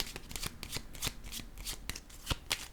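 Tarot cards handled and laid down on a table: a run of quick, crisp papery slaps and flicks at an uneven rhythm, close and fairly soft, with no talking.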